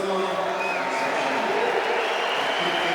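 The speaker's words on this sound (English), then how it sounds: "You can hear it. The crowd's excited to see him." Excited crowd at a Street League Skateboarding contest in Sydney, steady broad roar of cheering and applause filling the whole moment, distant and continuous with no single voice standing out.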